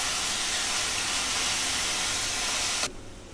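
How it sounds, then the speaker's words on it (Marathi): Onions for egg keema sizzle in a hot pan with a loud, steady hiss that holds evenly, then suddenly drops away to a quiet background near the end. "कांद्याला आपण थोडं परतवून घेऊया."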